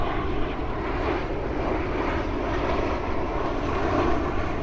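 A fixed-wing airplane flies overhead, its broad, steady engine roar holding at an even loudness for several seconds with no voices over it.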